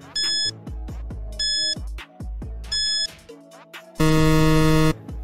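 A game-show-style countdown timer of three short electronic beeps, evenly spaced about a second apart, followed by one longer, louder buzzer tone; loud and close, with no talking.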